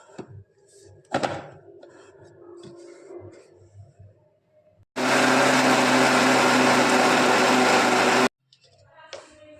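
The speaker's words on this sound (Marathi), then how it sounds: "भांड्यात काढून घेऊ आणि परत दुसरी तीळ मिक्सरमधून फिरून घेऊ" A mixer grinder whirs loudly and steadily for about three seconds as it grinds roasted sesame seeds, with quieter kitchen clatter and handling sounds before and after it.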